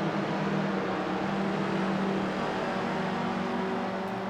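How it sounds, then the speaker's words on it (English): A car drifts in Assetto Corsa, its engine holding a loud, steady rasping drone with tire noise smeared across it, continuous and close for the whole stretch. "Here you're going to see some masterful drifting skills."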